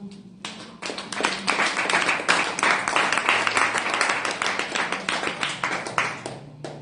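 A church congregation at a Tuesday worship service breaks into brisk, sustained clapping, many hands striking together at close range in a dense, lively rhythm for several seconds before tapering off.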